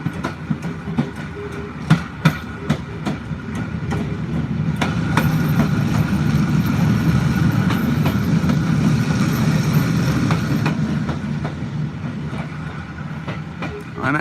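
A vintage Metropolitan Railway carriage on the Bluebell Railway rumbles along steadily with a few sharp knocks and rattles, and the rolling noise swells in the middle before easing off.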